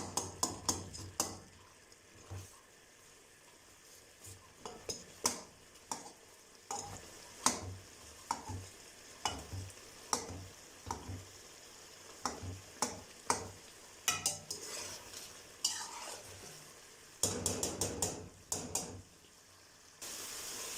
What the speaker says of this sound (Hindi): मैं टमाटरों को जो है मैश करने के लिए लकड़ी के चमचे की मदद ले रही हूँ।